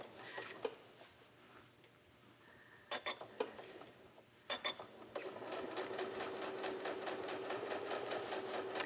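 A domestic sewing machine stitches raw edge appliqué fish shapes onto a quilt, with a few short bursts and pauses early on, then a steady, close, continuous whirring run of stitches to the end.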